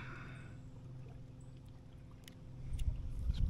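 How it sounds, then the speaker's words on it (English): A boat paddled past on the water during evening smallmouth fishing, soft watery swishes and gurgles that grow louder toward the end as it comes closer, with no voices. "Just paddled right on through."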